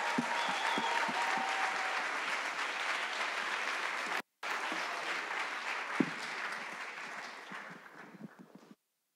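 An audience at a youth conference closing ceremony bursts into sustained applause, a dense wash of many hands clapping that holds steady, breaks off for a moment, then fades out toward the end.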